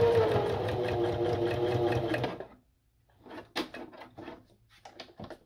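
Electric sewing machine stitching a paper tag for a junk journal, a steady loud mechanical whirr for about two seconds that stops abruptly, followed by quieter clicks and handling noises.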